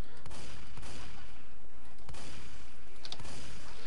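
Rapid bursts of gunfire from a Left 4 Dead 2 zombie shooter game, dense and continuous over a constant noisy din, with sharp louder shots standing out at intervals.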